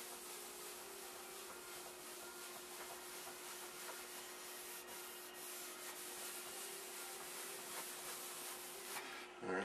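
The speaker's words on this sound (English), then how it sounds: "they come right off while you're buffing it with Novus" A cloth buffs Novus polish over a Bakelite radio cabinet with continuous rubbing strokes, a steady close scrubbing hiss throughout and a brief knock at the end.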